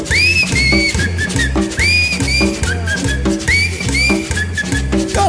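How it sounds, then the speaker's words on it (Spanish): Shrill rising whistles from dancers repeat in bursts over loud, rhythmic dance music with accordion and bass at a seafood restaurant in Tultepec, State of Mexico. "y ahora chiflando todo"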